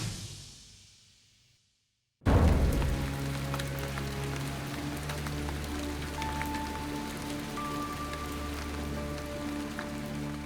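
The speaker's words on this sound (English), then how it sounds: "the rain's going to get even worse" Rain pours steadily onto an outdoor archaeological excavation site at Dinmore Hill in Herefordshire. After a short fading sound and a sudden cut, a dense, even hiss of rainfall continues at a constant level.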